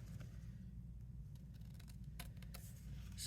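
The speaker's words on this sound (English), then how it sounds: "I can just follow that embossed line now really easy with the scissors" Scissors snipping card along an embossed line in a papercraft setting: a few faint crisp cuts near the end over steady low background hum.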